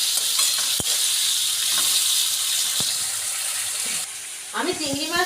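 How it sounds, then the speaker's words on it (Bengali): Bean seeds frying in spiced masala for a shrimp curry give a steady close sizzle with occasional spoon knocks on the pan, and a voice is briefly heard near the end. "এটা সুন্দর করে ভাজা ভাজা হবে"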